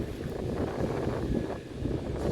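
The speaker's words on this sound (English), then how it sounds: "It's a windy day today." Steady wind gusts buffet the microphone out in a cornfield, a low continuous rumble with no talking.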